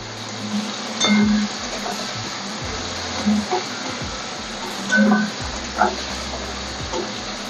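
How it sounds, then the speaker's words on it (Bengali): Prawns fry in a pan for a Bengali pointed gourd dish, a steady close sizzle with occasional utensil clinks and a voice speaking over it. "এপিট ওপিট করে একটু ভেজে নিতে হবে।"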